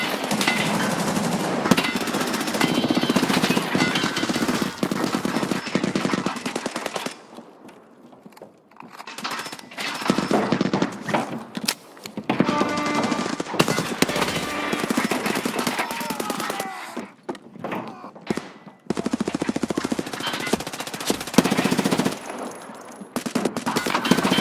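SVT rifle gunfire in Escape from Tarkov, rapid shots in dense bursts up close, broken by a brief quieter lull before firing resumes, with faint talk mixed in.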